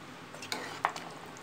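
A spoon stirs coriander into a goat head curry in a pot, with a few soft scrapes and one sharper clink of metal against the pan, brief and close.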